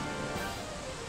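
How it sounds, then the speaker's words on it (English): A steady, broadband rush of falling water near a waterfall in the video game Dragon Quest XI, a continuous even roar with no breaks and no voices over it. "Looks like we're getting near the waterfall."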